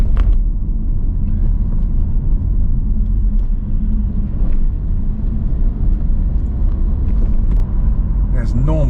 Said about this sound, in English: There's normal traffic